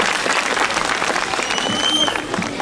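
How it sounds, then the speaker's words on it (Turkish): Audience applause fills a hall at a Circassian culture festival, a dense stretch of clapping with crowd murmur and faint voices mixed in, easing slightly toward the end. "Bu yakışıklılığa, bu karizmaya bir alkış rica ediyorum."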